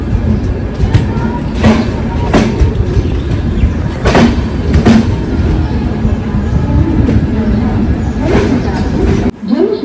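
The 12051 Jan Shatabdi Express arriving at Panvel station, a loud continuous rumble of rolling wheels with repeated sharp clacks over rail joints, mixed with platform crowd noise.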